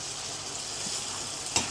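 Nepali chicken curry fries over a high flame, a steady soft sizzle with faint stirring scrapes and one sharp clink of a utensil near the end, no voices.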